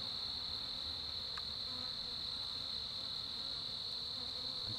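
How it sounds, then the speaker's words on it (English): Honey bees buzz at a sugar syrup feeder, a steady high-pitched drone holding constant and fairly close for the whole stretch, with no voices. "Now there's a third and a fourth bee."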